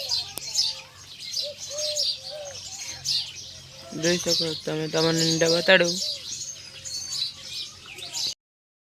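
Pigeons in a loft with nest boxes of eggs and chicks chirp and coo softly in the background while someone talks nearby through the middle of the stretch.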